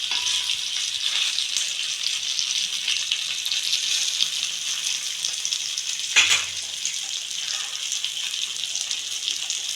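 Fish frying in hot oil with curry leaves makes a continuous bright sizzle with a single sharp clatter partway through, and no one speaks.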